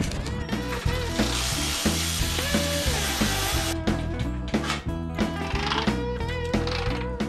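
A hand ratchet works 7/16 bolts loose on a Briggs and Stratton tiller engine, giving a quick, continuous clicking pawl rhythm close by, with brief squeaky scraping and no talk.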